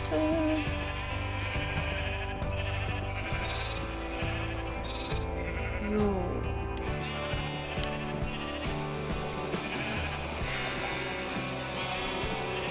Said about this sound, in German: Das kommen die ganzen Schafe auf mich zu